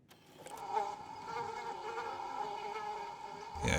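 A fly buzzes in a video game, a sustained droning hum that rises slightly and holds steady for several seconds before a brief louder burst at the end.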